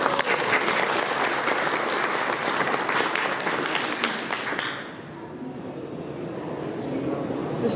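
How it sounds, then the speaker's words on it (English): Applause from the audience at a poetry event at the National Gallery Lates: dense, loud clapping for about five seconds, then thinning and fading into a quieter room murmur. "Ladies and gents, a round of applause for Lily Ferret."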